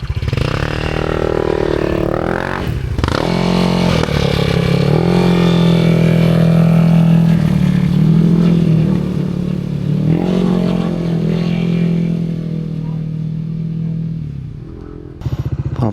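A motorcycle heard up close while riding, its engine droning steadily with rising and falling revs and some clatter throughout, and no talk over it.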